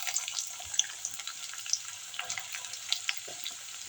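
Sliced onions dropped into about fifty millilitres of hot sesame oil for chicken thokku, giving a steady, close, bright crackling sizzle with small irregular pops throughout and no speech.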